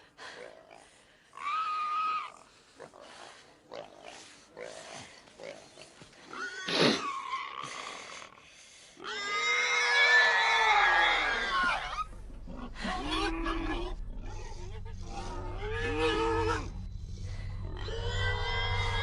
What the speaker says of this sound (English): getting a hint of Joe in that scream there